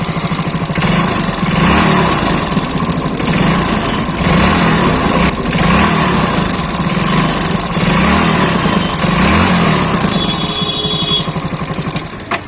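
A Hero Splendor BS6 motorcycle engine idles steadily and loudly up close, with a rapid mechanical tappet ticking clatter running through the rumble.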